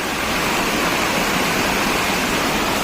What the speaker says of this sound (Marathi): हे सांडव्यातून पाणी वाहत आहे बघा.